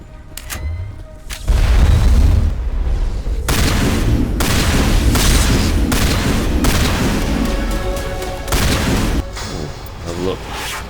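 Repeated shotgun blasts tear into a plant creature's tendrils in the Mass Effect game, loud booming bursts in close succession over several seconds, with a voice talking between the shots.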